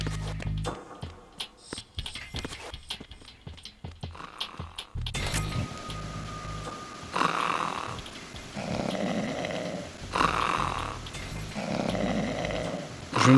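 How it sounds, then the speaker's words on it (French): Guard snoring in Metal Gear Solid 2, arriving from about five seconds in as slow repeated rasping breaths, several cycles in a steady rhythm over low game ambience, close and fairly loud, after a quieter stretch of scattered clicks and noises. "Je me demande si c'est pas lui qui couvre le bruit en vrai, avec ses ronflements à la con."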